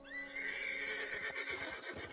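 A loud, close horse neigh rings out in Red Dead Redemption 2, long and wavering, followed by a few soft hoof steps.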